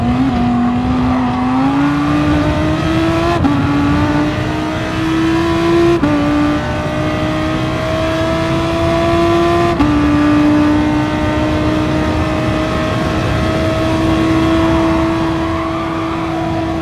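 Audi R8 Gr3 race car engine at Le Mans in a racing video game, a loud steady drone rising through the gears with sharp shift breaks every few seconds, heard alone.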